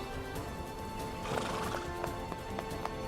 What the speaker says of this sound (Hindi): मेरे सरदार, आपने घोड़े को अल्तुतान का नाम ऐसे नहीं दिया।